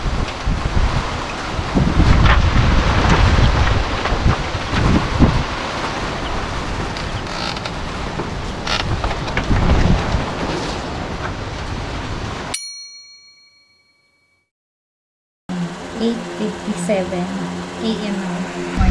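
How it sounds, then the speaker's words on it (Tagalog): Strong wind buffeting the microphone outdoors, a loud rumbling roar with creaks and rustling for over twelve seconds, then a sudden cut to near silence before the noisy gusts return. "Ang lakas ng hangin."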